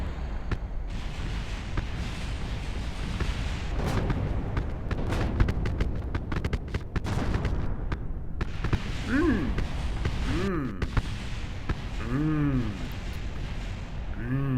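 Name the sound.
explosions in a video game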